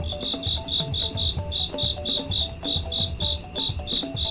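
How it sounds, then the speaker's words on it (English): Crickets chirp in steady, evenly spaced pulses, a bright repeating trill running through the whole stretch with faint background rustle and no talking. "Two crickets in a row."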